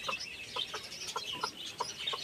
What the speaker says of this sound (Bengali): এই যে দেখো আমাদের হাঁস মুরগি